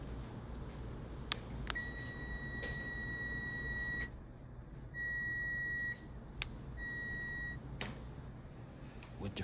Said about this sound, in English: If we hear a beep,